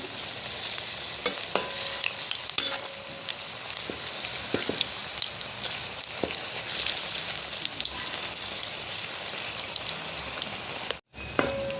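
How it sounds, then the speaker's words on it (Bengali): Ripe banana fritters frying in hot oil give a steady, close bubbling sizzle with scattered crackles and a few utensil taps, continuous throughout with no talking. "কলার বড়া হয়ে গেছে লাল লাল করে ভেজে নিয়েছি"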